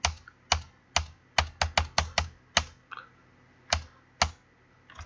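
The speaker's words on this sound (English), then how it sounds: "I can go to just by keeping my finger on Alt and pushing the Tab button." A computer keyboard's Alt and Tab keys pressed repeatedly, a dozen crisp, loud clicks in an uneven rhythm, close by and alone with no talking.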